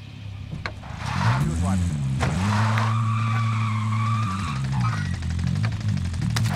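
A car in the video game Warzone drives and skids, with a loud sustained tire squeal over a revving engine that rises and shifts pitch for several seconds, and players talking over the game audio.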